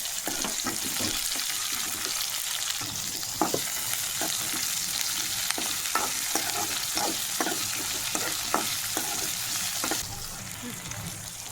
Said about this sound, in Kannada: ಒಂದು ಆಲೂಗಡ್ಡೆ, ಒಂದು ಕ್ಯಾಪ್ಸಿಕಮ್ಮು, ಹಾಕಿ ಚೆನ್ನಾಗಿ ಬಾಡಿಸ್ಬೇಕು ಎಣ್ಣೆಯಲ್ಲಿ.